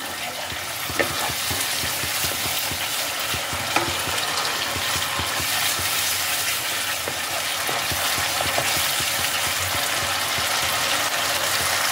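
Spice masala for matar paneer fries in oil while being stirred, a dense, steady sizzle with occasional scraping knocks from the utensil, close and with no talking.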